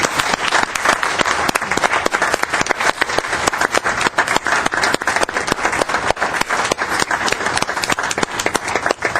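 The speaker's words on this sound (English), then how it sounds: "I think we should give them a round of applause" Applause fills a city council meeting chamber for a visiting high school group, dense steady clapping from a room of people that runs loud and unbroken from start to finish with no speech over it.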